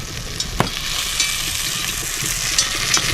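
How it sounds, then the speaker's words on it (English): Beef sears in sausage grease inside a Dutch oven for pot roast, giving a steady crackling sizzle with a few sharp pops and knocks, moderately loud and with no voices. "we're going to let this thing sear here for just a minute"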